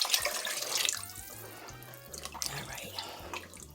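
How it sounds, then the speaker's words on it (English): Water runs from a tap into a pot of rinsed beans for Puerto Rican beans with brown rice, a steady close splashing pour alone with no talk. "I'm going to add a little more water to that"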